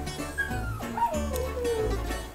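Close by, a dog whimpers and yips in high, sliding whines that rise and fall over a couple of seconds against a steady low background rumble.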